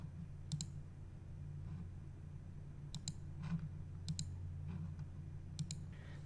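A computer mouse clicks quietly during software setup for an SMA Sunny Island storage inverter. Sharp single and double clicks come at irregular intervals over a low, steady electrical hum.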